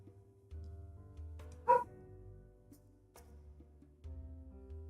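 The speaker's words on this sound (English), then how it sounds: "Oh, you guys can hear the dog." A rescue dog barks once, fairly distant and brief, against a quiet indoor background with low hum and faint clicks.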